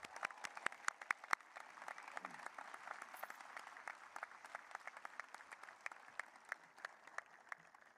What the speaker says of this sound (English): Please join me in a round of applause for these graduates.